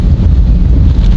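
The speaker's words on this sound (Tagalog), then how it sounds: "Ang lakas ng hangin." A brief burst of strong wind buffets the microphone with a loud, low rumbling roar.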